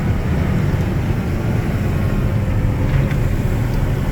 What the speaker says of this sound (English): this truck will leave the pond, we'll drive down to the interstate with one sprayer on